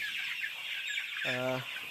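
A chicken in a large poultry farm gives a short, clear cluck near the end. Before it, a dense, busy chatter of many birds fills the shed at moderate volume, with no speech.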